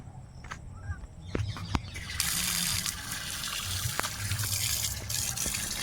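Water running steadily into a rural water source in the Sundarbans, a continuous close gush with a few knocks early on and faint birdsong in the background, and nobody speaking.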